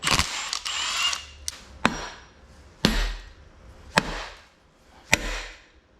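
A wrench works the last bolt loose during a $400 tractor engine teardown, sounding as five or six sharp metallic clacks spaced about a second apart, close and distinct against a quiet background.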